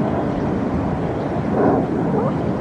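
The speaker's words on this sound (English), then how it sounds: "Hear all those planes overhead." Several airplanes flying overhead during a period of heightened alert over a city, heard as a continuous broadband roar with a slight swell in the middle, steady and fairly loud with no speech.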